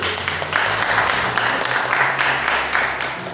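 Church congregation clapping together in steady rhythmic bursts, a dense mass of hands sounding throughout, with a low hum of voices or music underneath.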